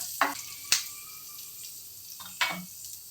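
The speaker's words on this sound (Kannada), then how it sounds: "ಈಗ ಸ್ವಲ್ಪ ಕರಿಬೇವು ಈಗ ಸ್ವಲ್ಪ ಫ್ರೈ ಮಾಡ್ಕೊಳ್ಳೋಣ" Curry leaves hitting hot oil with chopped ginger and garlic make a few sharp, close pops and spits over a faint, quiet sizzle, spaced unevenly across a few seconds.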